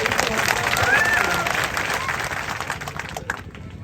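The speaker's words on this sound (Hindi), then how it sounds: "एक बार जोरदार तालियों से।" Crowd at a tournament event in Sikri applauding during a speech, a thick, continuous wash of clapping that fades slightly toward the end, with voices mixed in.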